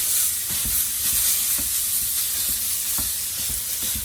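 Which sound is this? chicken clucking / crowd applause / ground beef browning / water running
ground beef browning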